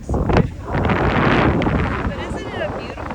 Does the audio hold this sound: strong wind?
yes